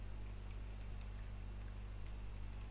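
Quick, light clicks of fingers typing on a computer keyboard, faint and irregular over a steady low electrical hum.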